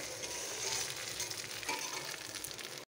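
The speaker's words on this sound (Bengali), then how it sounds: "চলুন এগুলো সব ডিমগুলো ভেজে নিয়ে আর খাওয়ার সময় আমাদেরকে দেখাই।" Eggs frying in a pan at home, a soft, steady sizzle heard close but faint, with a small stirring scrape partway through before it cuts off.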